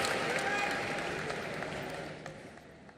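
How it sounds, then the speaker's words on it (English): Audience applause at the closing ceremony of the 53rd International Film Festival of India, a broad wash of clapping from a large hall that fades slowly, with a presenter's voice over it. "Round of applause"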